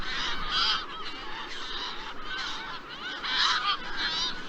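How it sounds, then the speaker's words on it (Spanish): Repeated harsh, nasal calls of an Audouin's gull in a series of bursts with brief gaps between them, fairly close and clear over a faint background, with no talking. "el sonido o el canto de esta gaviota Audouin"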